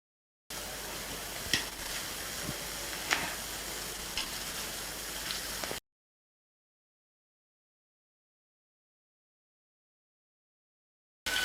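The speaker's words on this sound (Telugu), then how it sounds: "నూనె వేడెక్కిపోయిందండి గారెలు వేసేసుకుందాం" Chana dal vadas (garelu) sizzling steadily in hot oil for about five seconds, a dense crackling hiss with occasional sharper pops, then silence.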